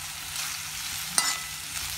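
Tomato and potato fry sizzling in a pan with chili powder as it is stirred, a steady close hiss of frying with a brief scrape of the spoon, heard alone.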